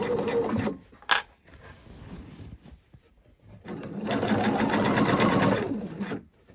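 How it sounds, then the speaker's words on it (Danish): A sewing machine stitches fabric with a 1 cm seam allowance, its rapid mechanical whir running in two close, steady bursts separated by a short quiet pause. "Og jeg syr med 1 cm sømmerum."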